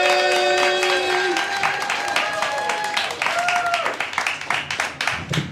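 Comedy club audience in Scotland applauding and cheering as comedian Ishmael Lutfi is brought to the stage, a loud, dense wash of clapping with a host's voice and music tones sustained early, then thinning toward the end.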